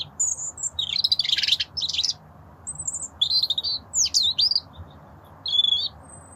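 British robin chirping close by in a garden, bright high warbling phrases and tweets in short bursts separated by pauses, clear over a quiet background.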